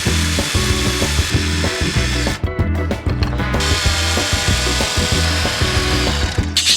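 A power tool grinds steadily through wood aboard a narrowboat with a rhythmic, buzzing cut, loud and close, pausing briefly partway through.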